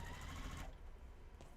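Sewing machine back tacking a quarter-inch French seam, a dense steady whir that runs for about half a second and then cuts off, leaving only a faint hum.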